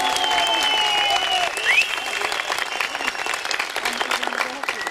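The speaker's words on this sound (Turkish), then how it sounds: "Bir vefa alkışı rica ediyoruz." Sustained applause from a ceremony audience at a handover event in Tokat, steady dense clapping filling the whole stretch with a brief swell partway through.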